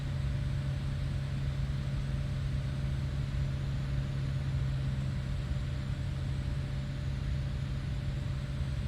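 An aircraft engine in Microsoft Flight Simulator 2020 hums as a low, even drone at reduced throttle, holding a constant level throughout with no voices.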